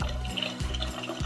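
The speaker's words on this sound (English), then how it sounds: "And then the fridge, there's this water button." A toy fridge's water button on an American Girl doll kitchen set plays a recorded pouring-water sound, a steady gurgling trickle that repeats in short bursts with no talking.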